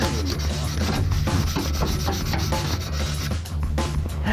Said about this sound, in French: On va la poncer.